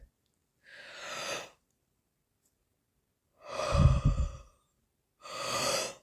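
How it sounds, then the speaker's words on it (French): A person yawns with long, slow breathy exhalations, three separate drawn-out breaths spaced by silence, close and soft, with no talking. "Vous pouvez bâiller aussi si vous avez besoin."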